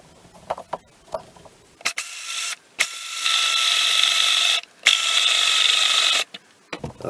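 Drill boring a hole into a cane display stand, close, with two sustained whirring runs separated by a short stop and a few clicks and handling knocks around them.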